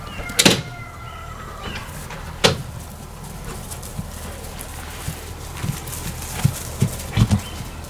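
A foal's hooves clatter on a stall floor as it backs out, with several sharp knocks and scattered lighter steps spread unevenly through a quiet barn.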